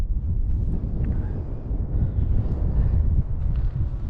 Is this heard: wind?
yes